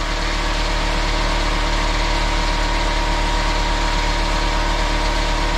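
An air grinder runs continuously at a loud, steady pitch throughout a heat test, its drone unbroken and close by, with no voices.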